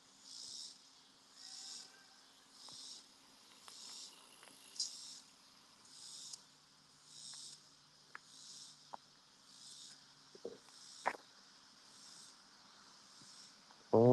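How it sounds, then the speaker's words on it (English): Loud cicadas chirping in rhythmic, pulsing bursts that rise and fade about every second, continuing through the evening with a few faint clicks and knocks nearby. "cicadas are loud"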